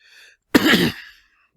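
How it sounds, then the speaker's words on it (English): A single harsh cough bursts out after a brief faint sound, loud and close, then fades into silence. "I did not start coughing until the camera came on."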